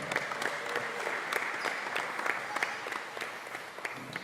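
Audience in a basketball game crowd applauds steadily and continuously at moderate loudness, clapping dense and even throughout for a Coach of the Year award winner.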